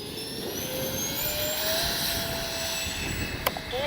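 A Freewing 80mm A-10 Thunderbolt RC jet fitted with afterburners flies overhead with a steady, loud electric ducted-fan whine whose pitch shifts as it passes, and a brief click near the end.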